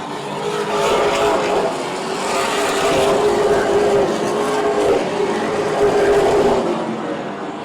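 Super Late Model race cars roar around an oval track at Oyster Bed Speedway, engines droning loud and sustained as the pack passes, with the tone swelling and easing throughout.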